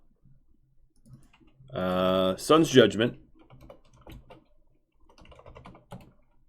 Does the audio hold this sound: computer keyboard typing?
yes